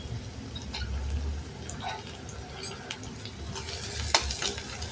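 Onion frying in a pan, a quiet bubbling sizzle under soft scrapes and a few clinks of a spoon stirring, with one sharper knock near the end.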